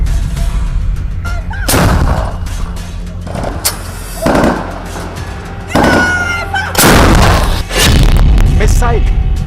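Artillery shells fire during a Chinese military drill near Taiwan, a series of loud, heavy booms arriving in separate bursts a couple of seconds apart, with rumbling between them and voices faintly present.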